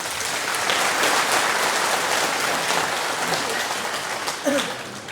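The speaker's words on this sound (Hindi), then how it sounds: "ताली बजाइए भाई।" An audience at a talk on stress management bursts into steady applause, a dense wash of clapping that holds for about five seconds before thinning slightly near the end.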